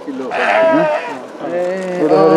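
Sheep bleating close by, a few wavering calls in quick succession, loud and nasal.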